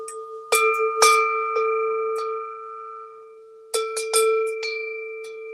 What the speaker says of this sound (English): for the start of my eating, I ring this bell a little bit.